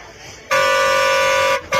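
One long, loud horn blast held for about a second, followed by the start of another honk.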